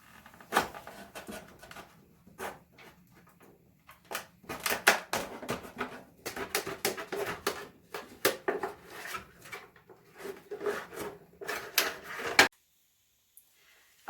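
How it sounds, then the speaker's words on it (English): Scissors cutting along a plastic edge, a run of sharp close snips and crunches coming in quick irregular bursts, then stopping abruptly into near silence. "cutting it with scissors"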